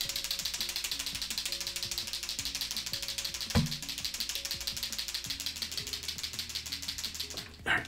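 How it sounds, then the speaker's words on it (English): Posca paint markers shaken two at a time, the mixing balls rattling inside in a fast, steady, even clatter that runs nearly unbroken and close up, with one sharper knock midway and a thump at the end. "I'm gonna shake them both up at the same time."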